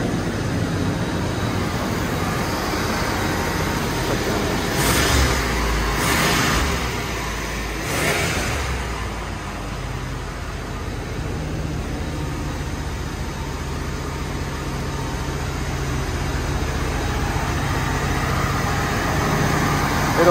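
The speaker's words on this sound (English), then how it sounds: "Engine's really quiet." A 1977 Chevrolet Corvette engine idles steadily after a cold start, a continuous close rumble with a few brief louder bursts partway through and no talking.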